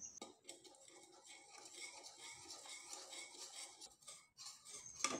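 Rice paste with salt gets stirred in a pan with a metal spoon, a faint run of quick scraping and clinking strokes that pauses briefly and then resumes, heard close and without talk.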